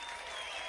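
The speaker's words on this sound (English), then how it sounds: "Yeah, little tiny claps." Faint, soft applause-like patter from a few light claps, steady and quiet for under a second, no voices over it.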